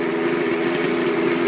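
An OS 91HZ nitro glow engine in a Vibe 50 90-size model helicopter conversion idles steadily, a loud, continuous buzzing drone that stays even throughout, close up and alone.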